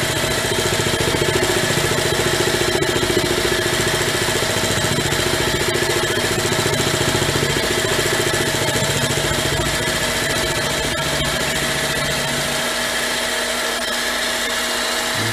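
A mini lathe runs steadily at roughly 860 to 870 RPM, a continuous close motor whine and hum with no talk, the low drone dropping away near the end.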